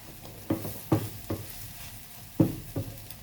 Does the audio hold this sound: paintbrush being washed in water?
no